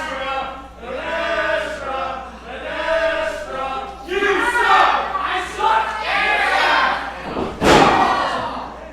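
A wrestling crowd roars and jeers in loud, chanting waves, close and dense, capped by a heavy thud near the end as the arena noise swells.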